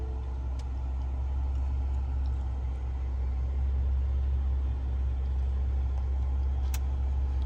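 Lincoln Navigator twin-turbo V6 running steadily just after start, a low constant engine hum and rumble heard from inside, with a faint click or two and no talk.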